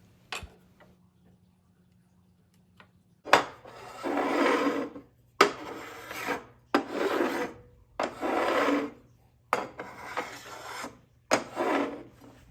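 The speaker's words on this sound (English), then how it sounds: "I'm going to adjust the 2 front screws to lower it and check again until the throat plate is adjusted properly." Phillips head screws are turned on the throat plate of a DeWalt table saw, producing a series of about seven short, close scraping and rasping bursts with brief pauses between them, after a quiet opening.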